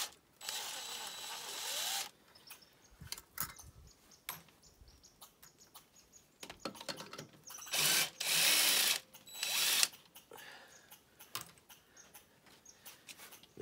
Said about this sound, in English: Loosen the screws here on the back of the yoke first.